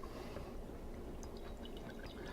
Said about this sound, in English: A little bit of water.